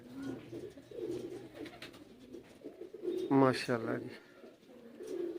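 Kamagar pigeons cooing, a short burst of soft throaty coos close by in the middle, with someone talking briefly over a quiet background.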